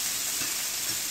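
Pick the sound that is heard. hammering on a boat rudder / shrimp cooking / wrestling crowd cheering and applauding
shrimp cooking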